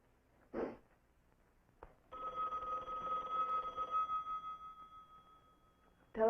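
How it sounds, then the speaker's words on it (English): Telephone bell ringing in a steady, sustained burst of about four seconds, set in a quiet room with a couple of soft knocks before it and a voice starting right at the end. "Telephone?"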